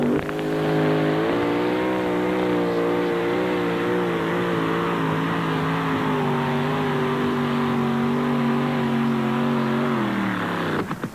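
A 1988 two-wheel-drive pulling truck with a supercharged alcohol aluminum-block engine roars at high, sustained revs, loud and close, its pitch shifting slightly under load before dropping off at the end.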